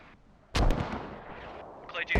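A mortar round striking in the game Squad lands as one heavy, booming impact close by, its rumble decaying over about a second before a second sharp crack.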